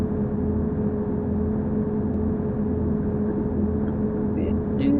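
A steady low engine rumble and road drone of a bus in a bus simulator video game, continuous and even throughout with no breaks.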